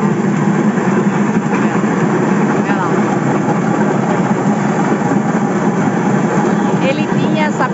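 A homemade corn grinder driven by an adapted motor runs steadily at a constant loud level, a continuous mechanical hum and rattle with grinding texture throughout.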